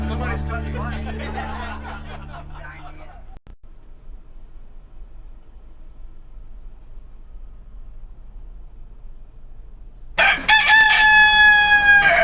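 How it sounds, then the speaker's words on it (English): A Key West rooster crows outdoors near the end, loud and clear after a long quiet stretch, following a burst of unrelated busy sound at the start. "Found my recording of a Key West rooster."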